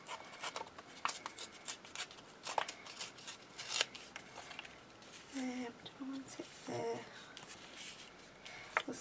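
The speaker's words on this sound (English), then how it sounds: "Let's just rip down here." Patterned craft paper being ripped by hand during card making, heard as a series of close, scratchy tearing and rustling bursts with brief speech mixed in.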